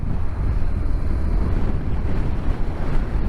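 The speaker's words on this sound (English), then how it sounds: "I think this wind's changed direction because it's blowing in front of us again for the moment" Heavy wind rushes and buffets a microphone while riding a BMW GS motorcycle, giving a loud, continuous low roar, close and unbroken, with no voices.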